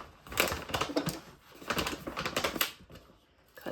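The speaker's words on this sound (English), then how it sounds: "Cut that corner off." Scissors cut the corner off a woven feed bag, a series of close, crunchy snips in two clustered bursts with a short pause between, loud and dry against quiet surroundings.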